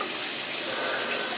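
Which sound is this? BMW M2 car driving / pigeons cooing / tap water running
tap water running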